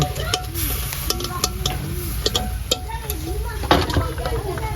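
Mung beans and chicken are stirred in a pan over a steady sizzle, with repeated spoon scrapes and clinks against the pot while someone talks over the cooking.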